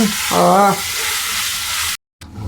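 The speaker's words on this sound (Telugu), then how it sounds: "తర్వాత టమాటా, మళ్ళీ ఇవన్నీ దగ్గరికి వచ్చేదాకా మంచిగా వేపుకోవాలి" Tomatoes frying in a pan for gongura chicken, a loud steady sizzle and hiss close up with a brief tonal clink early on, cutting off abruptly near the end before resuming faintly.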